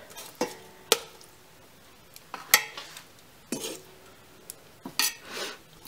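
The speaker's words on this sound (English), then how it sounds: "I'm just gonna use my tongs and take them out of this" Metal kitchen tongs lifting food out of a bowl, giving a handful of sharp clinks and clacks spread out with quiet gaps between them, close and fairly soft.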